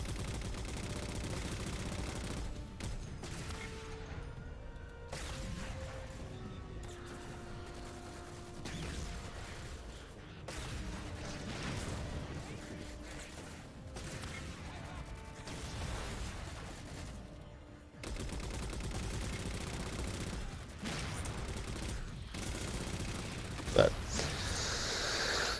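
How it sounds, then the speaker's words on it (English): Gauss gun mounted on a Warthog firing in Halo: The Master Chief Collection, a dense, steady mechanical clatter with shot-like bursts and game noise running throughout. "Yep, I'm on the Gauss gun."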